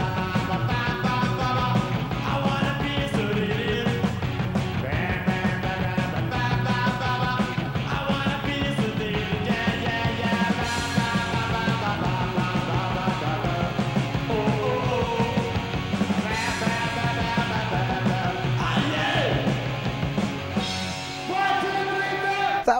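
A punk rock song, first recorded in 1978, plays loud and dense with distorted guitars, driving drums and shouted vocals, continuous throughout.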